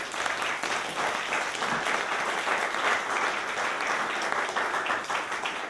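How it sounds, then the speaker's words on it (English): Audience applause closing a panel talk at a digital industry lunch in Leeds, continuous even clapping from a moderate crowd, steady and fairly loud throughout, no voices over it. "Round of applause."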